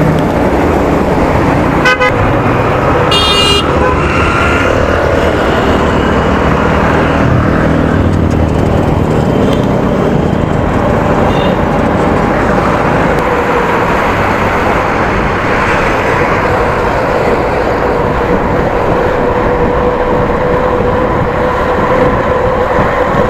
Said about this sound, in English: Traffic, man, traffic.